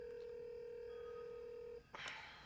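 A telephone in a scene from the movie Monster House gives a steady, loud dialing tone that stops abruptly, followed by a brief burst of noise.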